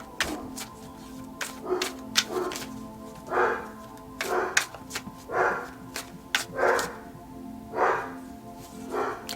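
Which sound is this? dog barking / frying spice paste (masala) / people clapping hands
dog barking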